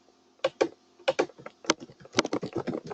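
Fingers type on a computer keyboard in quick, uneven bursts of key clicks, close up and clear, with short pauses between the runs of keys and no voices over them.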